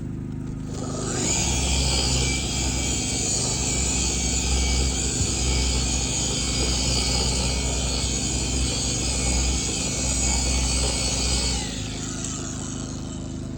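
A Rupes polisher runs on low speed against car paint during paint transfer removal, a steady loud motor whir and buzz that starts up, holds evenly for about ten seconds, then stops, with no talking.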